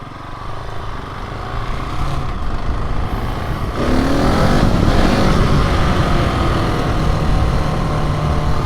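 Husqvarna 701 Enduro single-cylinder motorcycle while riding: a loud, steady engine drone with wind rush that swells into a stronger pull partway through, heard up close with no talking.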